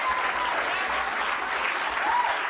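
Comedy club audience in Montréal applauding at the start of a live stand-up show, a dense, steady wash of many hands clapping with faint cheers mixed in, close and sustained throughout.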